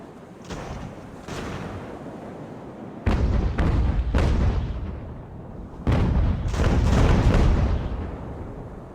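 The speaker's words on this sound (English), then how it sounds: "We'll probably go grape shot here. As soon as we fire one more shot, I think we'll try that." Ship cannons in Ultimate Admiral: Age of Sail fire in heavy booming volleys, several deep blasts in clusters with rumbling decay, loud and close, with no talk over them.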